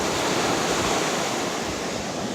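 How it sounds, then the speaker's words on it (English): Ocean waves wash on a beach in a loud, continuous, full-bodied roar of surf, steady throughout with some wind rumble and no voices. "I like to go in the ocean."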